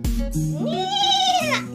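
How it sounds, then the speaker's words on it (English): A single horse whinny, pitched and wavering, rises, holds and then falls over a couple of seconds, loud and close, with no talking. "Do you know the sound of a horse?"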